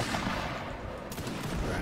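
Musket fire from the Mount & Blade Napoleonic Wars minisiege: dense, continuous crackling volley noise with a brighter shot burst partway through, loud and steady for under two seconds.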